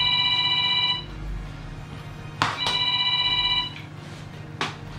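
A telephone ringing nearby in a bicycle workshop, its electronic ringtone sounding in repeated bursts with brief clunks between them and no talking.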